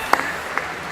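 An audience applauds at the State of the Union, a broad wash of clapping with a few sharper individual claps standing out, loud and continuous.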